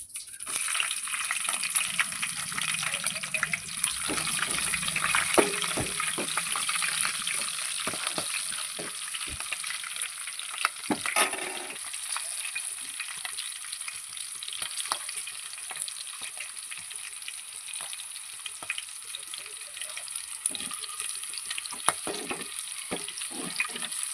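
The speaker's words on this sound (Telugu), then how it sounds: "కొద్దిగా ఆవాల జీలకర్ర, తర్వాత మిర్చి వేసుకుందాం." Mustard seeds, cumin and green chilies sizzle in hot oil for a dal tempering. The hiss is steady and close, with scattered crackles, pops and stirring clatter throughout.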